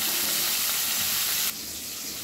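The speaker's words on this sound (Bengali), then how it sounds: "গ্যাসের ফ্লেম মিডিয়ামে রেখে আমি ভেজে নেব" Hilsa fish pieces frying in oil over a medium gas flame, a steady bright hiss that drops abruptly to a quieter sizzle partway through, with no talking.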